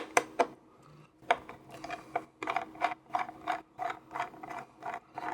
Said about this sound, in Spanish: Después lo que voy a hacer es retirar los tornillos.